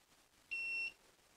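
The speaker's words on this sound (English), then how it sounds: "it's going to beep until it's fully charged" A steady electronic beep from a Projecta jump starter power supply while charging, a single sustained high-pitched tone lasting under half a second, clear against a quiet background.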